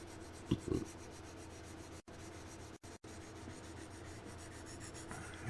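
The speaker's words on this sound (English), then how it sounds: "You're doing block sanding." Steady abrasive rubbing of a sanding block across a model car body, continuous and close with a few brief pauses and a couple of light knocks near the start.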